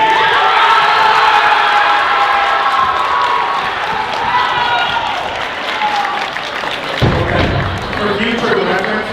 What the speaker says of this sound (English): Every student stand up and cheer for the sophomore team.